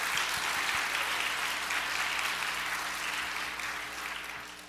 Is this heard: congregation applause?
yes